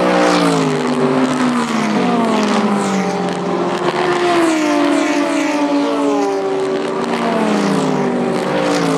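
Race cars on the Spa 24 hour circuit accelerating at full throttle after the safety car pulls in, a loud continuous engine roar with rising and falling pitch sweeps as several cars pass close by, a brief exclamation over it.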